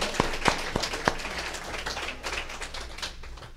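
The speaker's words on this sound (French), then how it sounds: "On applaudit Daniel" A few sharp, distinct claps open a round of applause from mourners at a funeral ceremony. It swells into a dense, fading patter of clapping in a quiet room.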